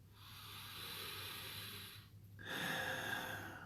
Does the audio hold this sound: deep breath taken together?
yes